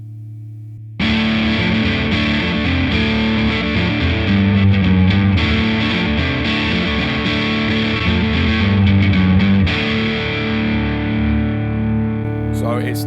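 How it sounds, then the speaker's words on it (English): An electric guitar is played on its single-coil pickup through a Wampler Sovereign distortion pedal on the boost setting, giving a loud, sustained, saturated tone with chords ringing continuously before the sound stops abruptly near the end. "It's a distortion pedal, that's what you do."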